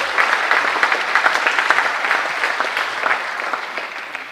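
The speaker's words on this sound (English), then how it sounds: "Let's give them a round of applause" Crowd applauding honorees at a high school Hall of Fame ceremony, a full steady round of clapping that gradually softens toward the end.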